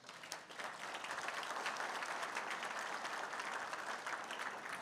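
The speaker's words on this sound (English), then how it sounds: "I ask you, please applaud yourself" An audience at an anniversary celebration applauds, a steady dense wash of many hands clapping that holds evenly throughout, fairly distant and unbroken by voices.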